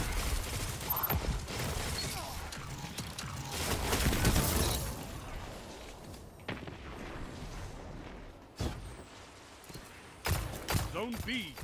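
A hand cannon fires in Destiny, several sharp, spaced shots mixed with clattering game effects while a voice talks over the action.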